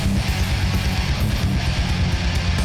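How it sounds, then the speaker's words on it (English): A dense, murky 90s-style death metal mix pounds along with fast low drumming and heavy bass, muffled and dark, with faint cymbals washing above. "he's gone for that 90s death metal sound"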